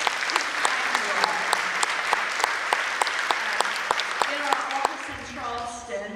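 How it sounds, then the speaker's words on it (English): Audience applause fills a state education conference hall, a steady dense clapping that runs several seconds before thinning and fading out, with some voices faintly mixed in near the end. "let's give yourself an applause for even being here"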